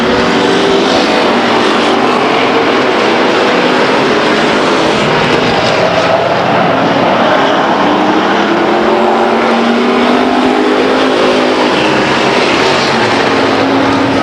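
Street stock race cars roar around the oval at Stockton 99 Speedway, a dense, continuous engine drone with rising and falling pitch as the cars pass, loud and steady throughout with no voices.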